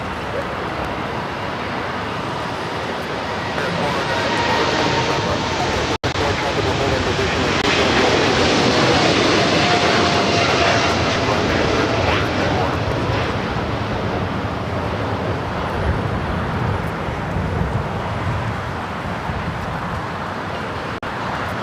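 A Lufthansa Boeing 747 rolls down runway 25 left at LAX, a broad, loud roar that swells and holds steady from a distance for about twenty seconds, with wind noise around it.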